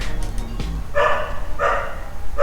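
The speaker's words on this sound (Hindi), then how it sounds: "कुत्ते भौंकते हैं, भौंकते हैं, भौंकते हैं, भौंकते हैं" Several dogs barking in bursts at a moderate distance, three separate clusters of overlapping barks with short gaps between them.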